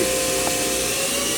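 Steady whirring hum of a 2002 Hurco VM-1 CNC machining center with a Cat 40 spindle turning at about 3,500 RPM, a constant close drone with a faint tonal whine.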